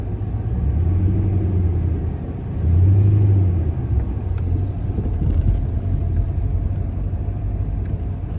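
A GTS car being driven home, its steady engine rumble and road noise filling the cabin with a brief swell in revs, close and continuous throughout.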